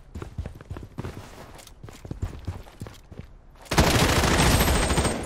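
Gunfire crackles in the shooter game Project: BloodStrike, a run of rapid, distant shots in irregular bursts that gives way to a loud, dense roar of close automatic fire near the end.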